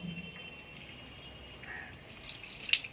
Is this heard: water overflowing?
yes